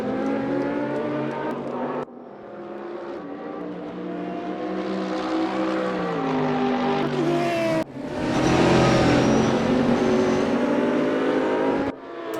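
An Audi GT3 race car, painted black, green and silver, racing at Imola, its engine roaring loud and steady with rising and falling revs and gear changes across the run.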